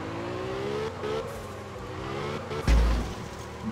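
A car in the Absolute Drift game revs and whines steadily while drifting around circles, engine pitch rising and falling, with a sharp thump and surge near the end.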